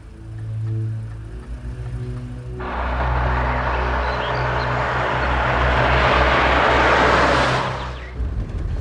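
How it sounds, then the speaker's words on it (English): A car engine approaches, starting faint and swelling into a loud, broad roar that holds for several seconds before cutting off, with a low hum beneath. "I think that's your car I hear"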